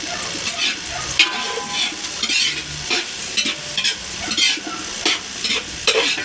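Butter goes into sizzling beef fried rice as a spatula stirs and scrapes the pan in quick, rhythmic strokes over a continuous close frying crackle.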